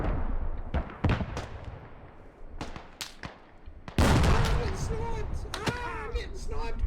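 Gunfire in Squad: scattered sharp rifle shots crack near and far, then a denser louder volley of shots breaks out, with a voice talking over the later part.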